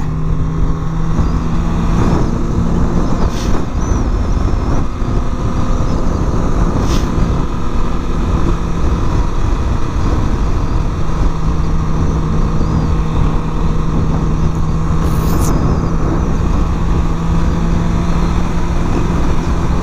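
Suzuki GSXR 750 sport motorcycle being ridden on the road, a loud, constant engine whine and wind rush from the rider's position, with a few brief clicks and no talk.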